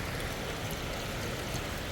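Continuous rushing of flowing water at Vagamon, Idukki, steady and fairly close, with no other sounds standing out.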